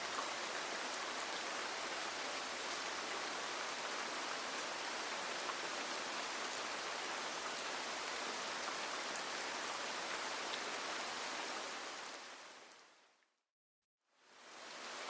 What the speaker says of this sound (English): the rain that has been falling since before you woke